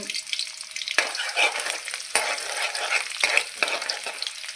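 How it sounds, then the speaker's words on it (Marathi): Finely chopped garlic hitting hot oil in a kadhai, a bright crackling sizzle that bursts up and keeps spitting, with several sharp stirring scrapes and knocks as it is tossed. "त्यामध्ये आपल्याला बारीक कट करून घेतलेला लसूण आहे ना तो टाकून मस्त परतून घ्यायचा आहे"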